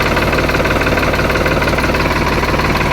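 A 2017 New Holland TT55 tractor in fresh condition idles with a steady, close diesel chug and a dense rhythmic knock that holds even and loud throughout, with no voices.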